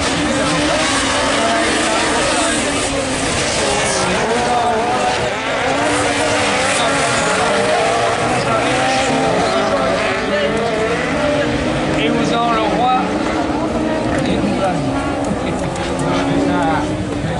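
Super 1600 rallycross race cars racing at Dreux, a continuous roar of engines with shifting revs and tyre noise, heard under steady commentary.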